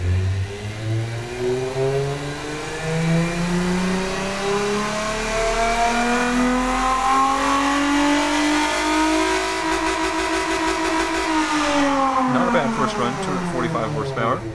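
A V6 engine in the racing-car game Automation revs steadily upward under a muffled exhaust, pitch climbing for about ten seconds before easing back, with a crackly rasp near the end and a voice talking over it.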